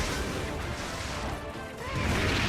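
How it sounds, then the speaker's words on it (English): A monster smashing its tail down in a video game hunt, a loud dense crashing impact with heavy rumbling debris that stays full and noisy throughout, without any talking. "after smashing his tail down"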